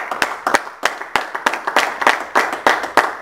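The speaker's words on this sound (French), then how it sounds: "Nous acclamons pour la gloire du Seigneur." A church congregation claps for the glory of the Lord, the applause loud and close, with sharp hand claps falling in a steady, rhythmic beat.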